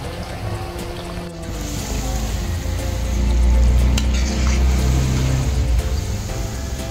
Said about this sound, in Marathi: तर आता आपण हे फ्राय करून घेऊया.